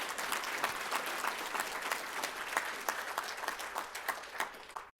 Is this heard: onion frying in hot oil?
no